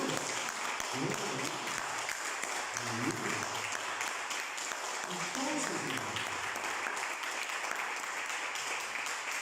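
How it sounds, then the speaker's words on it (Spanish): A church congregation applauds during a sermon, sustained dense clapping with shouted voices rising over it in bursts, filling the whole stretch at moderate loudness. "Denle un aplauso al Señor."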